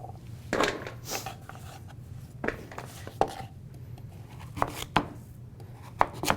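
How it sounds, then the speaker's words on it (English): Good kitchen knife cutting through dense root vegetables on a cutting board, scattered sharp chops and scraping strokes over a steady low hum, close by and without talk. "You can see even with a good knife, it's still rather difficult to cut through"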